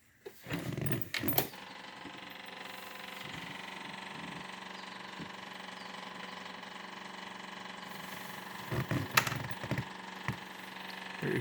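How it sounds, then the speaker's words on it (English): A John Deere 2520 tractor's diesel engine starting, with a few clunks and a crank at first, then a faint, steady low idle running in the distance before more clattering knocks near the end. "I'm going to start the John Deere"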